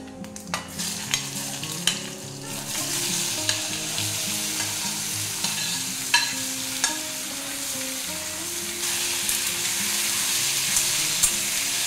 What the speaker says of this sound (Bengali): এবারে আনারসটা দিয়ে দেবো।